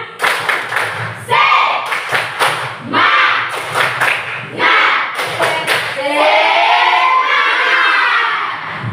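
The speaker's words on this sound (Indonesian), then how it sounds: "ayo kita tepuk semangat ya. Oke, tepuk semangat." A class performing a rhythmic clapping chant, with loud sharp claps in a patterned sequence mixed with children's voices calling out together, ending in a burst of excited shouting.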